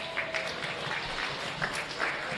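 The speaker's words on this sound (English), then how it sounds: "let's give these exhibitors a big round of applause" Applause from the audience for goat show exhibitors at a county fair, a modest, slightly distant patter of clapping that stays even throughout.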